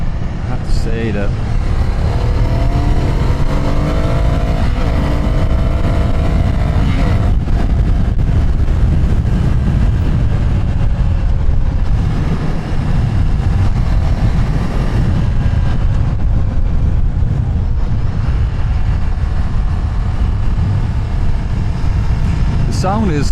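A Ducati Scrambler's two-cylinder L-twin engine drones steadily while riding, its pitch rising and falling with gear changes under heavy wind buffeting, close and loud throughout.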